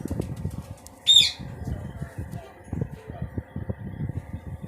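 A pigeon with clipped wings gives one short, close burst of wing flapping, with someone talking on either side of it.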